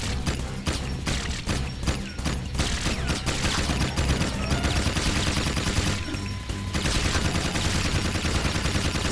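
Rapid gunfire in the video game Jak 2, shooting at Krew's jelly hologram copies during a boss fight: dense, continuous bursts of shots with thumps, loud and sustained through the whole stretch.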